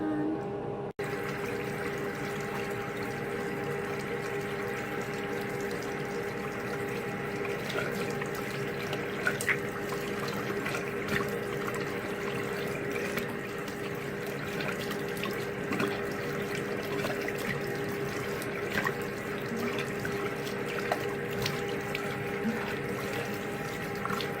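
Warm tap water runs steadily into a sink, a continuous even rush with faint splashes throughout, fairly close and with no talking.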